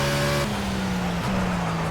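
Steady engine drone of a race car in Project Cars, a continuous tonal hum at near-constant pitch with a brief gear-change dip midway, heard loud and close without talk.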